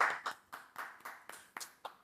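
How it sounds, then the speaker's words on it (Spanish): Studio audience on a talk show clapping in a loose, rhythmic pattern, about eight distinct hand claps spaced roughly a quarter second apart, moderately close and without speech. "Así que recibámoslo con un fuerte aplauso."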